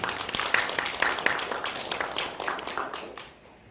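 Congregation clapping during a Sunday afternoon sermon in a church, a dense patter of many hands at moderate level, tapering off toward the end.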